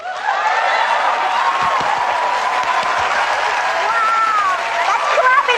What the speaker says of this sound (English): that's clapping a lot.